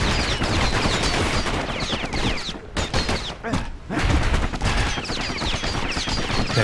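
Dual slinger pistols blazing in the video game Bastion, a dense, loud barrage of rapid shots that briefly thins out midway before resuming at full intensity.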